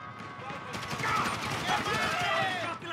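Gunfire rattles in Grand Theft Auto during a gang shootout: rapid repeated shots under a man's excited speech, fairly loud and continuous over the whole span.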